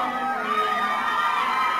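Fans screaming and cheering at Dubai Mall as they wait by a red carpet for Alden Richards and Kathryn Bernardo, a dense, steady crowd roar of high voices sustained throughout without letup.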